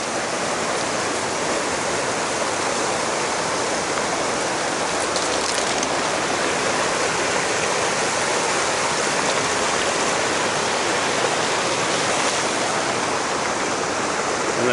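Glacier water rushes along a small stream, a loud, steady, unbroken flowing roar that fills the whole span close by.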